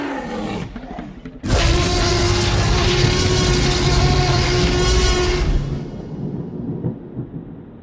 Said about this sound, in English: When the Tyrannosaur roared, it was terrifying, a scream from some other world.